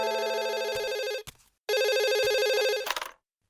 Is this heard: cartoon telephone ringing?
yes